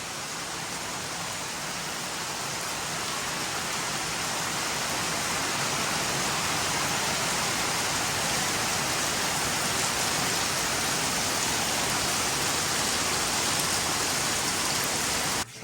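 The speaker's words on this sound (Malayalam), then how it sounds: "അപ്പോഴേക്കും എന്തേ നല്ല മഴ." Heavy rain pours steadily in a dense, even roar that holds at constant loudness throughout, with no voices.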